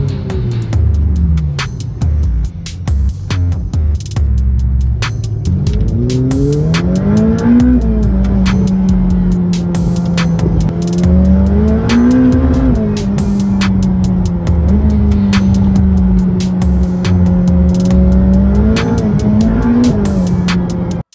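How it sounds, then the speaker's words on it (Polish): A Mercedes-AMG A35 at a car meet revs hard, its loud, continuous engine note swelling and falling in repeated surges, with no voices over it. "Teraz przed nami Mercedes AMG A35S."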